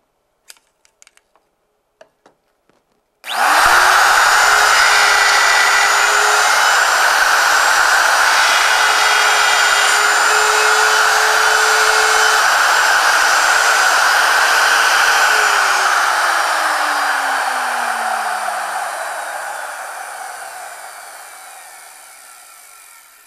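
After a few light clicks, a wood router with a Peachtree dovetail jig starts abruptly and cuts dovetails in wood stock, a loud, steady high whine that holds for about twelve seconds before slowly winding down.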